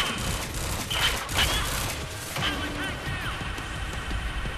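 Advanced SMG from Quantum Break firing in rapid bursts, with crackling shots and clattering impacts layered over busy combat noise, moderately loud throughout the short stretch.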